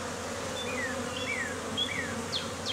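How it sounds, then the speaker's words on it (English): Honeybees on brood comb inside a cage make a steady close buzzing drone, with a few individual bees' pitch glides passing over the hum; no one speaks. "Here's the bees on the brood inside the cage."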